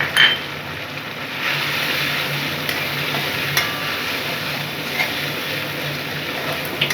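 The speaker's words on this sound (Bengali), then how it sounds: "দিয়ে আমি একটু মশলাটাকে একটু কষে দিচ্ছি।" Spice paste for mustard-poppy seed hilsa fish being stir-fried in a pan, a steady soft sizzle with occasional utensil clinks and scrapes, close by with no talking.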